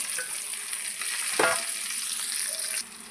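Mango pieces dropped into hot oil already crackling with mustard seeds, fenugreek and asafoetida, giving a sharp burst of sizzling that settles into a steady, bright frying hiss, close and fairly quiet, with no voices.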